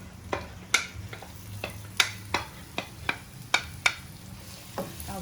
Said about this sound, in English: I'll saute it a little bit